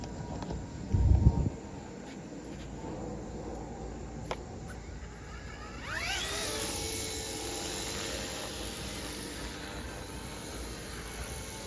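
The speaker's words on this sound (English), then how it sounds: "We're going to take this guy up and let her sit and then fly around it with the other helicopter." A Bell 206 micro RC helicopter starts up partway through and keeps flying, its steady rotor whine rising and holding to the end after a short quiet stretch with a brief thump near the start.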